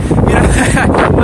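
Wind buffets a microphone outdoors on a cold Manhattan street lined with concrete, a loud, steady rumbling roar that fills the short stretch from start to finish.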